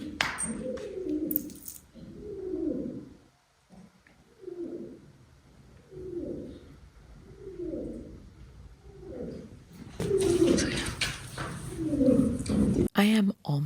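A pigeon-like bird coos repeatedly in soft, rhythmic phrases at a desert campsite in Mangystau, Kazakhstan, each a low throaty burble, with a brief burst of noise near the end.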